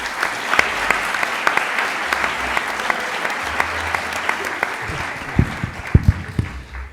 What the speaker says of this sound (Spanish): Un aplauso para Kiko